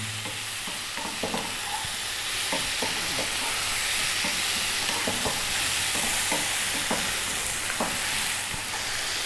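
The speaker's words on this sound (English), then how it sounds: "Let's keep stirring for 2 to 3 minutes now." Eggplant and potato curry sizzles in a pan as a utensil scrapes and stirs it in a quick, uneven rhythm of close clinks over a steady frying hiss.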